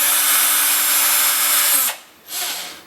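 A power drill runs loud and steady, removing the screws of an old dimmer switch; the motor winds down and stops, then briefly whirs up again before fading.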